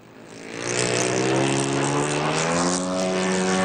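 A small propeller plane's engine revs up and holds a loud, steady buzzing drone, close by and rising slightly in pitch.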